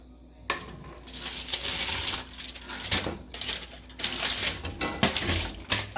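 Plant-based meatballs dropped one after another into a pan on the stove, a run of clattering thuds and clinks against the metal amid sizzling, fairly close and loud.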